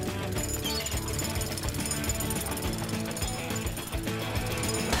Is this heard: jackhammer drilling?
yes